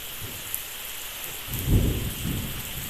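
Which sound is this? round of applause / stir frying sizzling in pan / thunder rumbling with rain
thunder rumbling with rain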